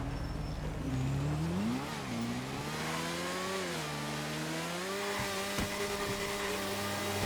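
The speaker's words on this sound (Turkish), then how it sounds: "Motoru çok seviyorum ya" A motorcycle engine in GTA Online revs up and down, its steady tonal drone rising and falling in pitch as it accelerates, loud and close with no talking.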